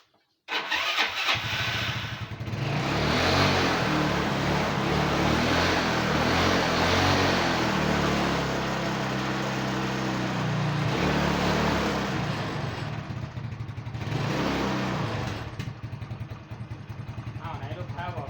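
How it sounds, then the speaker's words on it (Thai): A car engine is cranked with the key and catches, then revs up and runs steadily before two more blips of revving, heard up close with someone talking over it. "เดี๋ยวเรามาลองทำการสตาร์ทดูก่อนว่ารถติดหรือไม่นะครับ"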